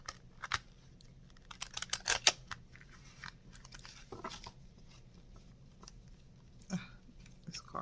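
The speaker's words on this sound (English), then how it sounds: "This card is giving me some problem shuffling." Crisp riffling and snapping bursts of playing cards being shuffled, coming in quick irregular clusters with quiet pauses between them.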